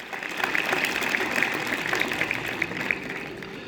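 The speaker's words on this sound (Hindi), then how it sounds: "इनके लिए जोरदार तालियां।" An audience applauds the tent house helpers who provide lights at a national service scheme camp event, a steady patter of clapping for a few seconds with no voices over it.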